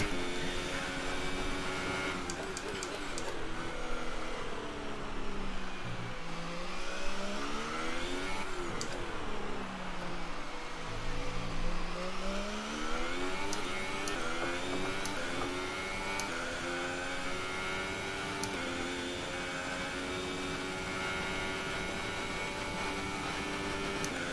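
Formula One race car engine in F1 2018 at Abu Dhabi, a continuous high-pitched whine that rises and falls through gear changes and braking, held loud and close for the whole stretch with no talk.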